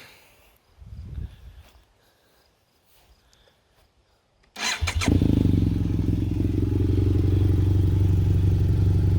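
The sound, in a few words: BMW F800GS motorcycle engine starting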